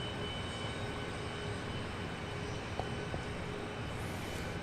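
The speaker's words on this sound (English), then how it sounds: "It's flight 1383 coming in from Albuquerque, New Mexico, 737-800." A Boeing 737-800 airliner arriving at Dallas Love Field produces a steady, broad engine roar that stays fairly constant and distant-sounding throughout.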